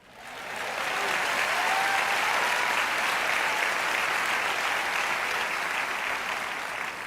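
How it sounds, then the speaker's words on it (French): A church congregation applauds and cheers loudly and steadily for about seven seconds, the clapping swelling in quickly and holding a dense, even roar. "Allez, acclamons le Seigneur."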